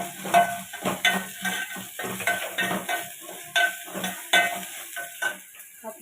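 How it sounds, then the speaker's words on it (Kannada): Okra fries in a pan, giving a steady sizzle with repeated scraping stir strokes close up, alone without talk. "ಬೆಂಡೆಕಾಯಿ ಈ ಥರ ಹುರಿಬೇಕು. ಹುರಿದ್ಬಿಟ್ಟು ಬೆಂಡೆಕಾಯಿ ಈ ಥರ ಹಾಕಬೇಕು."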